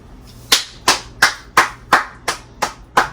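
One person claps their own hands at a home Jamaican Sunday dinner cooking session, eight sharp, evenly spaced claps close to the listener with brief pauses between them.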